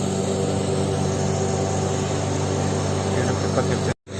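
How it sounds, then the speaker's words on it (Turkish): A lawn mower engine drones steadily close by at a campsite in Mersin, Turkey, a continuous buzzing hum that cuts off abruptly at the end. "o cim biçme makinesi şimdi kahvaltımın etrafında dolaşmaya başladı"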